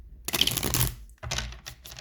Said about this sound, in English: Let's do like one more shuffle.